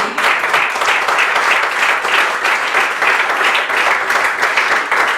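Dense, steady applause from a church congregation fills the space, loud and continuous without a break, no voices standing out over the clapping.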